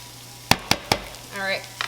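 A spoon stirs roasted butternut squash and lentil curry in a pan, giving three quick, sharp clinks close by, followed by a soft sizzle and scraping. No one speaks.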